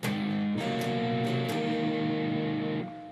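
A distorted electric guitar plays a slow riff: a held low note, then several quick picked strums with bright string attacks, ringing together until cut off near the end.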